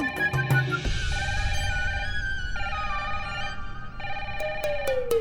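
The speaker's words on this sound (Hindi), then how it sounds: "फोन बज रहा है" A phone rings repeatedly with an electronic tonal ringtone, steady and fairly close, with a few sharp clicks and thumps underneath.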